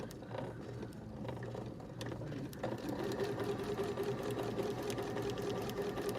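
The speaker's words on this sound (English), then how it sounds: "And we're just sewing the outer layer." A sewing machine stitches the outer layer of a zipper bag, its needle running in a steady rapid mechanical whir that holds continuously at close range, with a brief pause and restart in the middle.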